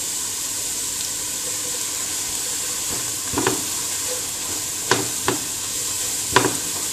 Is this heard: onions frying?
yes